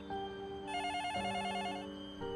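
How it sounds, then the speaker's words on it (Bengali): A telephone rings with a bright electronic ringtone, a warbling melodic pattern that repeats steadily and close by for a couple of seconds, with no voices over it. "বেভের ফোনটা বাজতে শুরু করায়"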